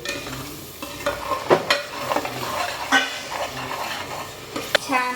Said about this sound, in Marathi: छान मिक्स करून घ्या असं, थोडंसं फ्राय होऊ द्या